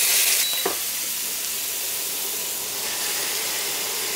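Crushed red pepper, garlic, minced ginger and chili paste hit hot oil in a loud, dense, steady sizzle that rushes up at once and keeps hissing evenly, close and uninterrupted by talk.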